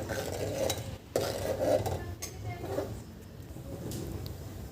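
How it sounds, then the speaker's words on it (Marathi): A spoon stirring ground green pea paste into boiling water in a pot, with a few clinks against the pot and soft swirling scrapes, close up and moderately quiet. "इथे मी असं वाटण घालून घेते आणि याला छान मिक्स करून घ्यायचं आहे"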